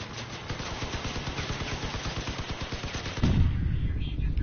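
Four guns firing at an enemy in a video game, a rapid steady stream of machine-gun shots in close, even rhythm, ending in a louder heavier burst.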